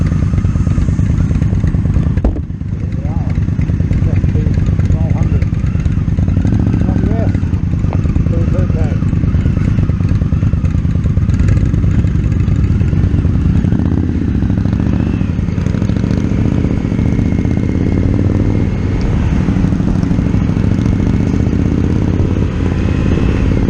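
An Indian Scout motorcycle engine runs steadily in slow traffic near road works, a continuous loud mid-range rumble heard from a following bike's riding position with constant wind and road noise.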